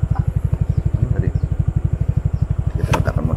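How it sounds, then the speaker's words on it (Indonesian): A motorcycle idles close by, its engine throbbing in a steady, even pulse throughout; near the end a brief burst of other noise rises over the idle. "kita letakkan motor dulu"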